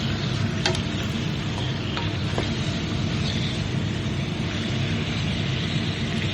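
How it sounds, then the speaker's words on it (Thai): Marinated pork ribs are stir-fried with salt in a pan, giving a steady, dense sizzle with a few scraping stirs, moderately loud and continuous throughout with no talking. "ค่อย ๆผัดไปเรื่อยๆ"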